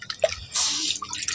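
Water from two bowls poured into a pan (kadai) for cooking mango peels, a short splashing, dripping trickle with a brief hiss, fairly close and alone.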